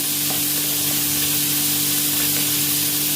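Pieces of food frying in a pan at home, a steady dense sizzle running throughout with a faint constant hum underneath and no voices.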